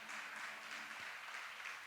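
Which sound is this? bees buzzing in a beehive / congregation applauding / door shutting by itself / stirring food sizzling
congregation applauding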